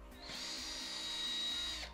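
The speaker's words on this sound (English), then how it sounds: "using cardboard as a base and a drill bit that's the same width as the screw, pre-drill holes through the spots that you marked" A power drill bores pilot holes through a wooden board resting on cardboard, a steady high whine that spins up, holds for under two seconds and winds down, close and alone.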